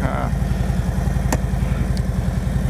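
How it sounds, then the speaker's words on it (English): Motorcycle engine idling in neutral, a steady close low throbbing putter with an even rhythmic pulse and slight clatter, running alone without voices. "So I put the bike in neutral and then I get my gloves on."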